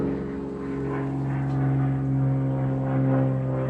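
Low propeller-plane engine drone passing overhead, a steady loud hum with strong low harmonics that swells slightly and holds throughout, with no talk over it.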